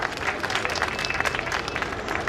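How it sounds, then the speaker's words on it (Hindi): Audience at a birthday celebration gathering applauding a donor's contribution to a dharamshala, a steady wash of many hands clapping, moderately distant and sustained throughout. "उनके लिए जोरदार तालियां।"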